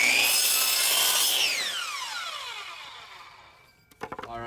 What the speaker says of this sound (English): Now that we've got our big pieces cut at 19¼ we're going to go ahead and do the same thing with our 8-inch wide piece.